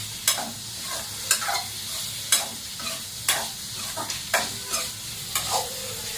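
Paneer frying in oil with turmeric and chili powder, a steady close sizzle with a rhythmic stir or scrape roughly every second, alone without any talking.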